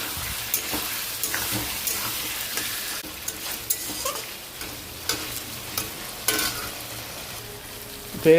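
Taro and potato curry being stirred in a frying pan, with a steady sizzle beneath repeated scraping strokes of the spatula and a few sharper knocks against the pan, alone and fairly close.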